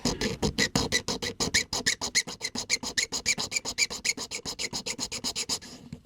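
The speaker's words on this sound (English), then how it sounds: "Just going to sand this flat." A small engine part from a Lindberg 1934 Ford model car kit is rubbed flat on sandpaper in quick, even back-and-forth strokes, close up, about seven rasps a second, with no voice.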